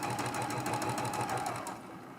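Sewing machine stitching through a quilted mug rug with hexagon pieces, a steady close, rapid mechanical whir with rhythmic needle pulses that runs continuously and then slows and softens near the end.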